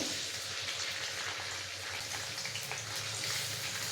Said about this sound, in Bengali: বিনস আর গাজরটা ভাজতে থাকবো